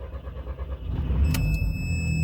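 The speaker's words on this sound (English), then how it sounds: "now the car is running" An Audi TT 225 (Mk1 8N) engine cranks over and catches, then settles into a steady low rumbling idle with a thin electrical whine, close and fairly loud.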